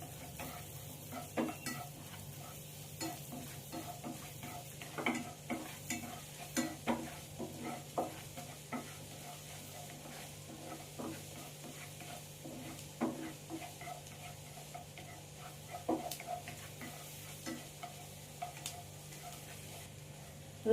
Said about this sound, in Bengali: রসুনটা আমার 2-3 মিনিট ধরে ভাজা হয়ে গেছে